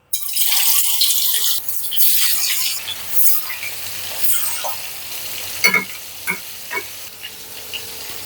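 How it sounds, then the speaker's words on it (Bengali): Hilsa fish pieces fry in hot mustard oil, giving a steady broad sizzle with a few sharper spits and pops near the end and no talking. "সরিষার তেল দিয়ে যে ইলিশ ভাজতে হবে তাই না"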